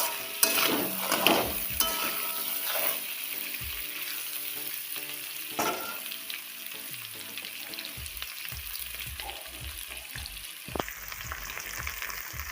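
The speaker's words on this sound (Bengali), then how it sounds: "আলুগুলো ভাজা হয়ে গেছে" Potatoes fry in a pan on a home stove for a vegetarian potato curry, giving a steady sizzle broken by stirring and light scrapes and clatter of the pan.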